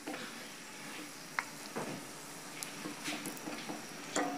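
Egg and potato chops frying in hot oil: a soft, steady sizzle with a few sharp pops and crackles, moderately quiet, with no voices.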